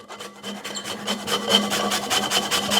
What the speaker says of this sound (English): I'm not worried about getting every last bit of zest